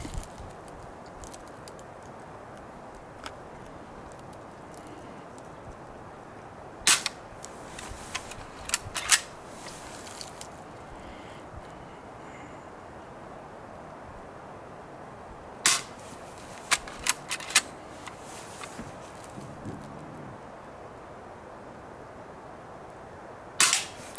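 A Daisy Model 25 BB air rifle fires outdoors in a wooded area, several sharp snapping shots in short clusters separated by long quiet gaps against faint background ambience.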